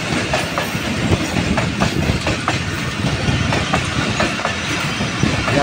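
The 26 Down Bahauddin Zakariya Express runs through Malir station in Pakistan without stopping, its wheels beating a steady clickety-clack with sharp rail knocks over a continuous loud rumble and hiss, close by.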